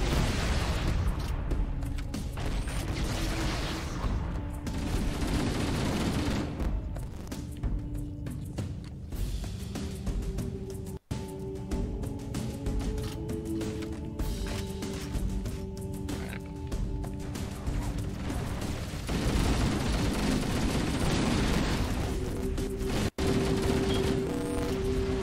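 Dense, continuous gunfire and booms from Halo: Combat Evolved gameplay, including shotgun blasts, with steady loud volleys throughout and a few sharp cracks standing out.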